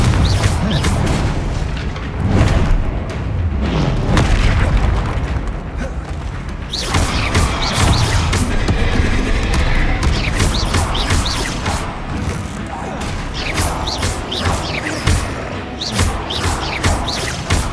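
Booming spell blasts and crashing impacts from a Hogwarts Legacy battle against a troll, with Confringo fire spells among them, loud and continuous, layered with game effects and rumble.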